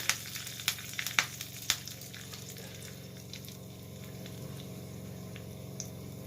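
Curry leaves and a pinch of asafoetida hitting hot oil for coconut chutney: a few sharp crackling pops at the start, then a steady low sizzle that continues alone.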